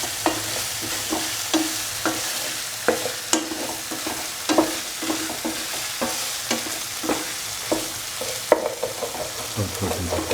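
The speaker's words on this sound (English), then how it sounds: "Salt and mix thoroughly." Cottage cheese cashew stew with salt is stirred in a sizzling pan. A spoon scrapes and knocks in a repeated rhythm over a steady frying hiss, close and clear, with no talking.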